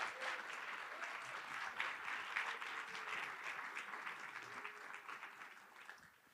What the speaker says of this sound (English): Let's have one more round of applause for our brief winners and our competitors tonight.